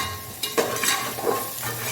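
Sliced onions frying with salt in a pan for egg biryani, a steady close sizzle broken by a few soft clinks and stirring scrapes.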